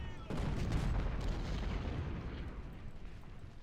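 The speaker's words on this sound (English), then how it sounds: "I'm going to shoot at their artillery" Ultimate General Civil War cannon fire rumbles in a game battle as a booming artillery volley with deep rolling reverberation that slowly fades, heard at moderate distance.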